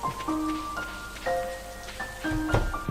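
Steady rain in the video game Stardew Valley, a soft, even hiss of falling drops running under melodic game music tones for the whole stretch.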